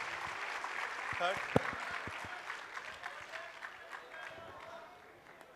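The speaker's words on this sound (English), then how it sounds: "We have a round of applause for them" Audience applause for contest winners at a tech talk on Flutter app performance, moderate clapping that tapers off, with people talking over it and a few sharp knocks near the start.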